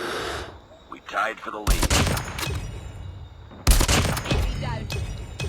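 Heavy sniper gunfire in the Call of Duty video game, two loud booming shots a couple of seconds apart, each trailing into dense rumbling battle noise, with a faint voice underneath.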